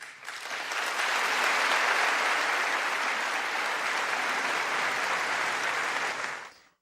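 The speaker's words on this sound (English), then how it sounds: "there were a lot of standing ovations, a lot of cheering" Loud, sustained applause from a large audience in the United States Congress follows the King's speech, swelling quickly, holding steady for several seconds, then fading out.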